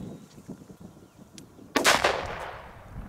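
A single sharp bang from a Klasek DUM BUM Black Edition PB120D firecracker flare bursts out after a stretch of quiet rumbling, followed by a long fading crackle and hiss.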